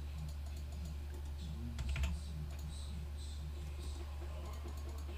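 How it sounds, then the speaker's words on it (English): A computer keyboard clicks softly in scattered light taps beneath a steady low hum, faint and close, during a RuneScape session. "We are indeed using the keyboard."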